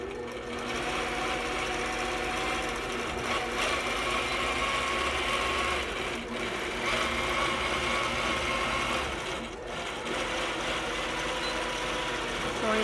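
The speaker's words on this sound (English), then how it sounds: "Do the stitch in the ditch on here and sew." Sewing machine running steadily while stitching in the ditch on a quilt with a Quiltpath custom quilting setup, a loud continuous motor whir with needle chatter lasting several seconds, uninterrupted.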